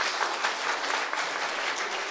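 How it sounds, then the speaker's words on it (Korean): A church congregation applauds during a Sunday afternoon worship service, a short burst of steady, evenly dense clapping from many people filling the room. "박수 한번 해줍시다."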